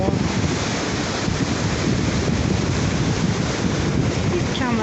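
Ocean surf rolls into shore at North Beach, Port Townsend, as a steady loud wash of waves mixed with heavy wind buffeting the microphone. The roar continues without pause.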